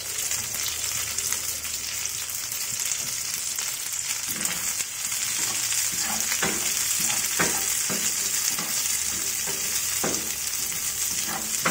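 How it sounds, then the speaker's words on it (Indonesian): Ingredients for a spicy, sour and sweet oyster mushroom dish sizzle and crackle steadily in a frying pan, with occasional stirring scrapes, close and continuous with no talking. "Kita goreng layu-layu saja."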